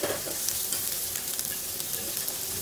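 Ginger, onion and garlic sautéing in a pan, giving a steady close sizzle with light stirring scrapes throughout and no talking.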